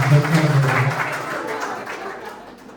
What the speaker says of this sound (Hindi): तालियां बजाते रहें प्लीज।